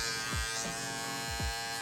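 An electric master hair clipper, set fully closed, hums steadily while trimming a man's beard line close up, its buzzing tone dipping in short repeated strokes as the blades pass over the hair.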